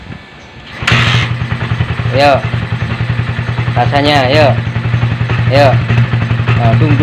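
A Honda CB150R motorcycle engine idles with a steady low throb, heard from the exhaust, while its revs rise and fall several times, under nearby talking.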